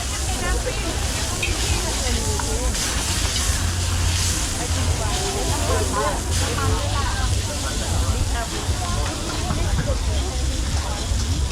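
Gas cylinder burner flame hissing steadily beneath street food cooking at a Laos street stall, a continuous broadband roar with sizzling texture and faint voices in the background.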